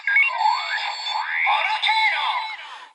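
A DX Volcano Vistamp toy gives off a bright electronic activation jingle of chirpy, warbling synthetic tones, played close and alone for a few seconds.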